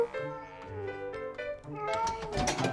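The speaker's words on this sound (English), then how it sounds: "cat." A cartoon cat meowing amid a busy musical score, the meows mixed under bright tonal music that swells louder toward the end.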